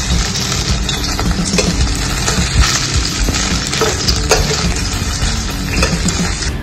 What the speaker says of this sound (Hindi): धीरे धीरे पलट के फ्राई कर लेंगे तेल हमारा गर्म है